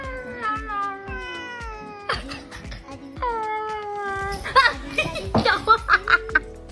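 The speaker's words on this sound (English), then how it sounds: "These people's cat absolutely hates stuffed animals." A cat meows and yowls repeatedly at a stuffed animal, drawn-out cries rising and falling in pitch, followed by sharper, choppy bursts near the end.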